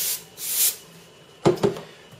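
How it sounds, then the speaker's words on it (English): Two short bursts of liquid spray from a bottle while replacing the polarizer sheet on a MacBook Air A1370/A1465 screen, coming late after faint earlier hissing, close and fairly quiet. "Spray a little more."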